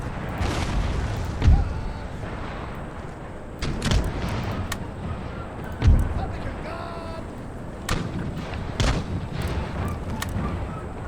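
Artillery fire in the strategy game Empire: Total War during a siege of Athens, heavy booms landing irregularly every two seconds or so over a steady rumbling battlefield, each thud loud with a short decaying tail.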